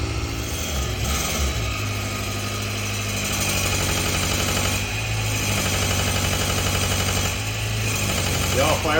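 A 1981 VW Rabbit diesel engine runs after its injection pump is refitted, making a steady, dense, clattering idle that continues loudly throughout.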